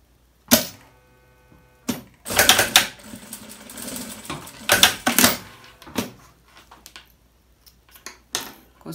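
A sewing machine joins two pieces of fabric bias tape with a half-centimetre seam, giving several separate bursts of mechanical stitching and clattering with short quiet pauses between them, close and moderately loud.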